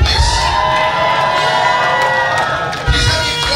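A crowd gives a standing ovation at a palace appreciation event, a dense, loud wall of cheering, shouting and whoops that carries steadily with no speech over it.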